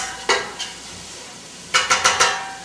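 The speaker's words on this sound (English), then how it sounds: "Celery, the green pepper, and the onion. You need those to saute and sweat out a bit" Celery, green pepper and onion sautéing in a pan, heard as a few spaced scraping stirs early on, then a quick run of four stirring clatters over a steady low sizzle.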